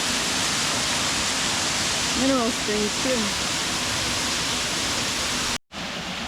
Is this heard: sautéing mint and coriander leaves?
no